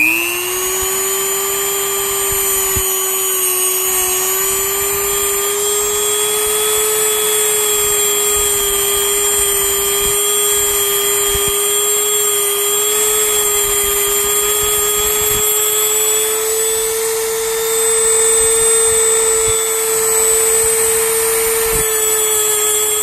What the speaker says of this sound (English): this smoothing brush just seems to be doing it without any sanding or anything like that